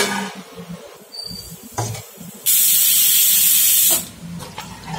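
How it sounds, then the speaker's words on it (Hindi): A pressure cooker holding wheat and dal for haleem vents its steam in one loud, harsh hiss that lasts about a second and a half, with quieter kitchen clatter before and after. "20 से 35 मिनट पकाने के बाद देखें इसका प्रेशर निकाल रही हूँ"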